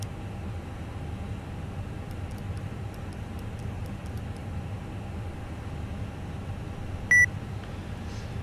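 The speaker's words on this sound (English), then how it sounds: "Sorry for the beeping, guys." Repeated short electronic beeps in a Fenix A320 airliner cockpit in Microsoft Flight Simulator, a regular series of faint high ticks over a steady low cabin hum, followed by one brief louder tone, with no talking.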